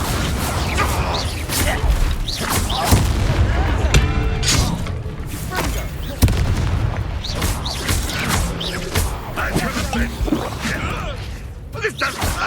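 Confringo blasting spells in the Hogwarts Legacy video game, heard as repeated crashing bursts and thuds amid continuous combat noise, with shattering impacts scattered throughout.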